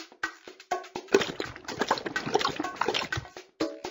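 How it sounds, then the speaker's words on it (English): Cartoon sound effects for a pony drinking from a watering trough in a Dora the Explorer game: a series of quick, rhythmic slurping and gulping splashes, close and clear, with brief pauses between them. "Click on the watering trough to give our pony a drink."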